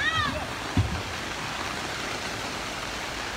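Typhoon floodwater churns and rushes against a dike in a continuous turbulent roar, with a brief faint whistle-like tone near the start and one short low thump.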